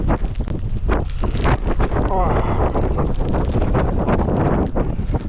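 A strong, gusty wind batters the microphone on an exposed hiking trail along the Coast to Coast route, a loud, continuous roar with sharp buffeting bursts and some voice mixed in underneath.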